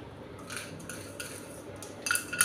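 Chana dal tipped from a spoon into hot oil in a pan, giving a few faint, brief metallic clinks and a soft rattle over a quiet background.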